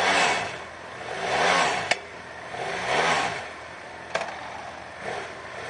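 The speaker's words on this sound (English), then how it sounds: "2012 BMW F650GS with ABS. Fire it up so you can see how she sounds." A 2012 BMW F650GS motorcycle with ABS idles and is revved in slow repeated swells, engine rising and falling about three times with a couple of sharp clicks, close and alone.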